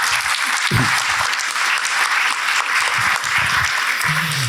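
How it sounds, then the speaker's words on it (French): Sustained applause from a conference audience, steady and full throughout, with a few brief low voice murmurs rising under the clapping. "vous pouvez l'applaudir"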